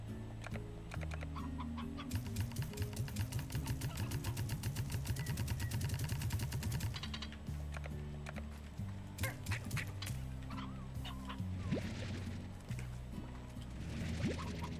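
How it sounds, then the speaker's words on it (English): Elder hen in the Slime Rancher video game clucking over and over, alongside other game fowl sounds and some rapid mechanical clicking, all running steadily for the whole stretch with no talk. "Well, the elder hen can stay."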